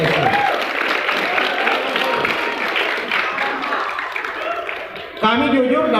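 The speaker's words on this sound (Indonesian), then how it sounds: "Tepuk tangan dulu untuk sekolah Islam" Loud, dense applause from an audience at an Islamic junior and senior high school graduation ceremony fills the hall for about five seconds, then gives way to a voice speaking.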